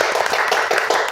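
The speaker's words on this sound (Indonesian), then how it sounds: "Tepuk tangan dulu dong." Short burst of clapping from a studio audience welcoming a Pertamina Hulu Energy human capital manager as podcast guest, dense and close, with no voices over it.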